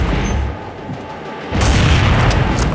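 An AWP sniper rifle fires in the Counter-Strike video game: a single sharp, loud boom lands midway and leaves a sustained, dense rumble behind it, with no talk.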